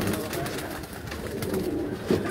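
Pigeons in a cage coo softly and continuously at close range over a low background hum.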